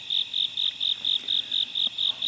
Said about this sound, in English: Now, you're going to hear the crickets.